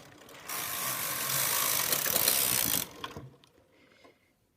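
A Brother knitting machine carriage slides across its needle bed, a loud continuous mechanical whir and ratcheting clatter for a few seconds that stops with a few small clicks.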